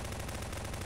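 Rapid automatic gunfire in the video game Garry's Mod, Prop Hunt mode, a dense continuous burst of shots lasting under a second, loud and close with no talk over it.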